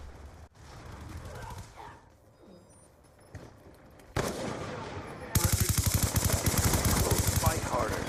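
SMG gunfire in a first-person shooter game, with quieter in-game sounds and a few shots at first, then loud sustained rapid-fire bursts dominating the last few seconds, up close.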